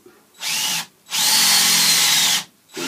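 Power drill cutting a countersink into the top of a wooden dowel for a walking stick, three loud whirring bursts close up, a short one, a longer steady run, then another starting.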